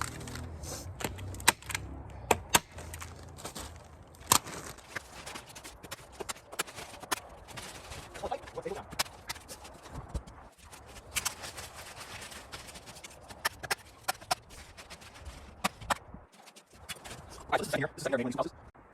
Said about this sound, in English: as I'm stapling it, I'm pulling the plastic tight, tucking it in, and stapling it